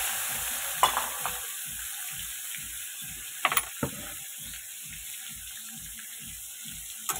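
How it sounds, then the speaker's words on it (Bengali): Chopped tomatoes frying with asafoetida in a pan for aloo dum, with a steady rhythmic scraping of a spatula against the pan and a few sharper clinks, close and moderately loud, no talking. "এগুলো একটু ভালো করে ভেজে নিচ্ছি।"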